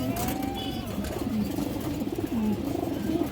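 Fourteen-tail Musoldom female pigeons coo in a repeated low, throaty warble close by, with soft background noise and a faint voice.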